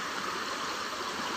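River water rushing steadily at a stream crossing, a continuous broadband wash of flowing water, close and fairly loud, with no voices.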